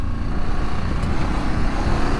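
A Ducati DesertX motorcycle ridden off-road in Colorado in Rally mode, its engine a steady, close, loud drone with slight pulsing and no speech.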